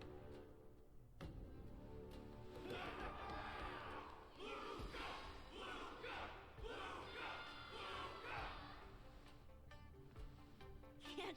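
Crowd of spectators cheering and roaring at a wardance battle's conclusion in the Honkai Star Rail video game, a sustained loud swell of many voices with rising shouts, steady throughout.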